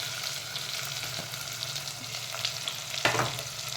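Onion frying in hot oil for masala dal khichdi, a quiet continuous sizzle with scattered crackles and a brief louder stir or pan knock toward the end, no voices.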